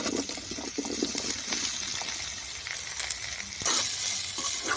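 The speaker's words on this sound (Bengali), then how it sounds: "এখানে আলু আর ফুলকপিটা ভাজা হতে থাক" Steamed potatoes, cauliflower and peas fry in a pan with ginger and green chili, giving a soft, continuous sizzle with small crackles and a slightly louder patch near the end.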